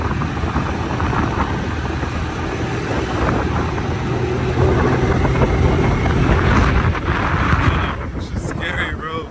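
A neglected moped ridden flat out at top speed, its engine a steady, buzzing drone blended with heavy wind rush across the microphone, continuous and close throughout with a slight lift near the end.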